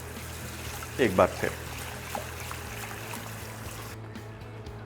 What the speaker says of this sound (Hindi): इस तरीके से हल्के हाथ से ये मटमैला पानी निकला इसका, और इसमें फ्रेश वाटर